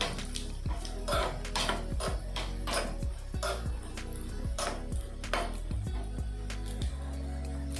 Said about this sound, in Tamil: முந்திரி போடுறேன், இதையும் நல்லா ரோஸ்ட் பண்ணிக்கோங்க